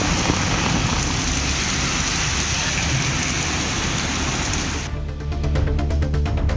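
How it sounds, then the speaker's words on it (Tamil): Steady heavy rain pours down in Tamil Nadu during a half-hour downpour with strong wind, a dense continuous hiss of drops hitting surfaces, with a brief change in texture near the end. "சுமார் அரை மணி நேரத்திற்கு மேலாக மழை பெய்தது"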